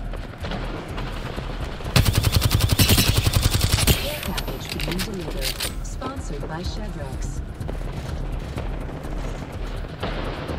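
Apex Legends team deathmatch gunfire: a loud burst of rapid automatic fire for about two seconds, followed by scattered shots and game effects, with voices talking over much of it.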